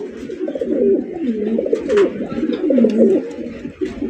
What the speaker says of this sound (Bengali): এটা খুবই চঞ্চল প্রকৃতির কবুতর দেখেন